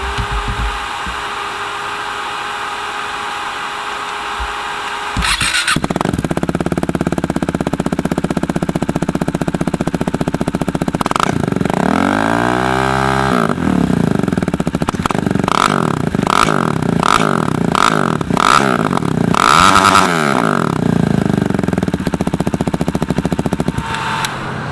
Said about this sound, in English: here's a little bit of a sound test between the Duke 390 and the Duke 790